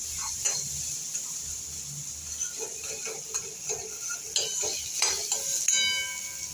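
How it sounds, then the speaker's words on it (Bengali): Onions and potatoes fry in a pan, a steady sizzle broken by repeated scraping and clinking of a metal spoon stirring against the pan, close and moderately loud with no talk. "মোটামুটি পেঁয়াজটা ভালো ভাজা ভাজা হয়ে গেছে, আর আলুটাও মোটামুটি ভাজা ভাজা হয়ে গেছে"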